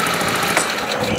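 A 50cc motorbike engine, fitted with a carburetor meant for a bigger bike, runs steadily at low revs, a buzzy, slightly uneven drone that holds for about a second, close and moderately loud.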